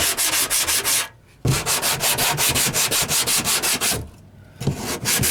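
Paint and primer are sanded off a 2009 Silverado truck down to bare metal, a loud rhythmic back-and-forth rasp in quick strokes, close up, pausing twice briefly before resuming.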